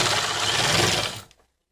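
A sewing machine stitching a single seam on a girl's frock, a dense steady whirring run for about a second that cuts off abruptly into silence.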